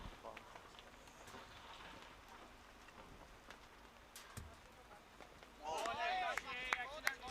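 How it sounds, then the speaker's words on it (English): A few light raindrops patter on the roof of a commentary cube at a T10 cricket match in Stockholm, Sweden, faint and scattered, followed by a voice speaking near the end. "Hearing a couple of drops of rain on the top of the cube here."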